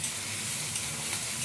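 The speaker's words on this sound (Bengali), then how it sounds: "দেখুন পেঁয়াজটা কি সুন্দর ব্রাউন হয়ে ভাজা ভাজা হয়ে গেছে" Onions sizzling with salt in a pan while making potol dorma, a steady close frying hiss that runs on without a break, with no talking.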